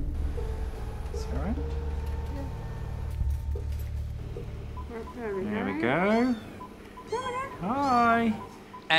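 A small kitten lets out several high, rising meows near the end, after quieter stretches with a soft background hum and a voice.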